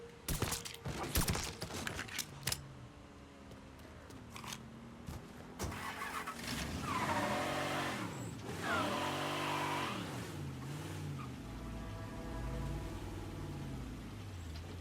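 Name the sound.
hot rod car engine and tire squeal in Mafia III video game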